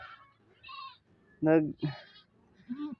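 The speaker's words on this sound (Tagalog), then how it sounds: "sumigaw yung kambing" A goat giving birth bleats a couple of times, short wavering cries close by, with people talking around it.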